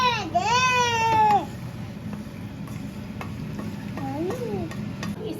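Grated coconut is stirred and roasted in ghee in a kadhai, a faint sizzle with light scraping strokes, while a baby cries loudly at the start and again briefly near the end.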